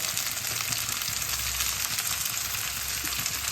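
Masala sizzles and fries steadily in a pan with chopped tomatoes for a Bengali rui fish curry. The hiss is close, continuous and even, with soft stirring and no voices.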